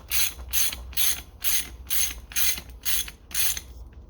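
A ratchet wrench tightens the fork cap on an Apollo pit bike during a fork oil change, clicking in eight steady, evenly spaced bursts, close and fairly loud with no talking.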